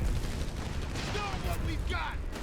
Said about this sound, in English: that's a really good preemptive artillery strike from Nubnath